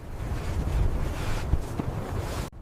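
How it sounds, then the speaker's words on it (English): Strong wind sweeps across open tundra, a loud continuous roar with gusty buffeting that stays steady and alone before cutting off abruptly near the end. "The wind intensifies, testing the herd's endurance across the open tundra."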